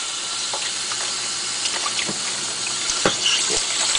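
Lukewarm water runs steadily from a tap for cleaning, a constant hiss with a few small splashes and drips, close by and with no voices.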